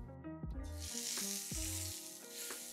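Wagyu beef sizzles on a hot griddle with a bright, continuous hiss, while tonal music plays prominently over it.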